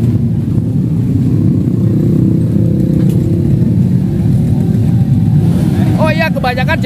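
A Honda CB or GL type motorcycle engine rumbles loudly and continuously at a beach gathering, with a brief higher whine rising near the end.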